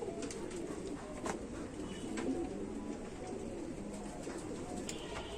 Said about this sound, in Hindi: ये ओरिजिनल रामपुरी कबूतर है जी